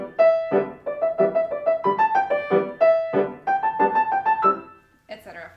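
Solo piano plays the livelier, dance-like section of Bartók's Evening in the Country, with quick repeated chordal notes in a bouncing rhythm, close and clear, ending with a short noisy rustle.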